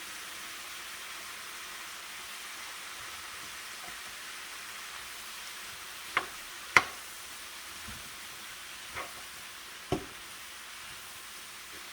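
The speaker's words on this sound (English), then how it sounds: "All right, I'm gonna add in my onion." Chopped onion and small diced potatoes sizzling in a skillet, a soft continuous hiss broken by a few sharp pops and clinks, faint and steady with no voices.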